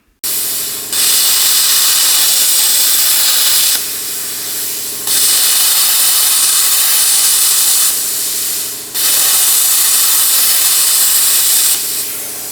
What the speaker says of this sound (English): I'm just going to try to torch that right off with the plasma cutter